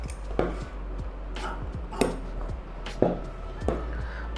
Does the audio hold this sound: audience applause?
no